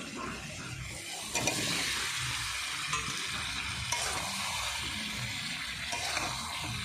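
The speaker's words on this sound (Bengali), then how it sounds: "তেজপাতা, শুকনো লঙ্কা ফোড়ন দিয়ে মশলাটা ভালো করে কষে নিচ্ছি" Spice paste frying in a pan with bay leaf and dried red chilli tempering, a dense steady close sizzle with occasional soft stirring scrapes, no one speaking.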